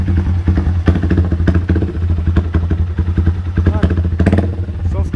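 A 160cc motorcycle fitted with a 600cc motorcycle exhaust runs at close range with a loud, deep, lumpy idle and rattling pulses, while someone talks over it.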